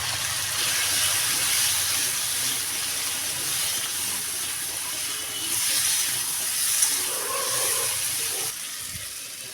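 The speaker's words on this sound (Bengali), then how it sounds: "তেলের মধ্যেই কালো জিরে আর তেজপাতা দিয়ে কেটে রাখা আলুগুলো দিয়ে দেব।" Cut potatoes hit hot oil with nigella seeds and a bay leaf, giving a steady, loud, bright sizzling hiss that swells slightly and fades a little toward the end, with no talking.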